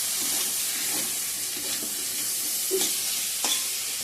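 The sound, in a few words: hot water added to fried masala, sizzling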